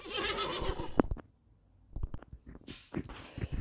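A horse in the Roblox Brookhaven game lets out a bright, quavering whinny over a hoof-clopping gallop, followed by a quieter stretch and more scattered thumps and clops.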